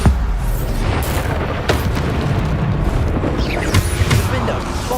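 Bombarda spell blasts from Hogwarts Legacy go off as loud booming bursts over dense, churning game noise, with several sharper impacts punctuating the continuous rumble.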